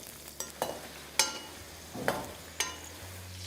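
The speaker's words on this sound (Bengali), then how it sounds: "আর বেগুনটা যতক্ষণ ফ্রাই হচ্ছে" Brinjal slices fry in oil with a quiet, low sizzle, broken by a handful of separate spatula scrapes and pan knocks spaced about half a second to a second apart, close and fairly soft with no talking.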